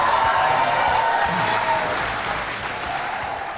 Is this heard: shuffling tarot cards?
no